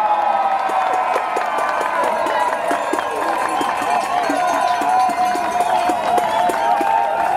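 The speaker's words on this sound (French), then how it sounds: "On applaudit." Outdoor crowd at a street march applauding and cheering, a dense steady roar of clapping and voices that carries on loudly throughout.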